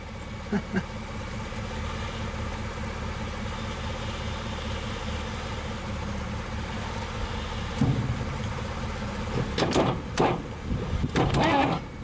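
A 1962 Dodge 100 engine runs after its first start in 25 years, a low, even idle close by, with a few clunks and rattles breaking in near the end.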